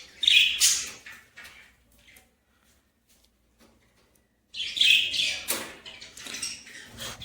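Pet birds chirp inside their coop in two lively bursts of high tweets separated by a few seconds of near silence, close and moderately loud.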